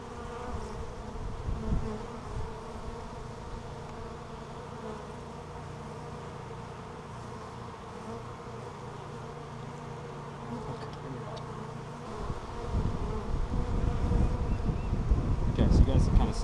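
A steady, droning hum of many honeybees buzzing close by at a hive, continuous throughout, with some rustling and louder handling noise near the end.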